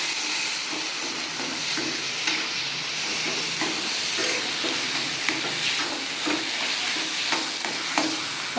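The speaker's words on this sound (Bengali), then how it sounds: "আলুর সঙ্গে মশলাটা আমি ভালো করে মিশিয়ে নেব" Boiled, mashed potato stirred into spices frying in a pan for a prawn cutlet filling, with a steady close sizzle and soft scraping strokes recurring throughout, no talk.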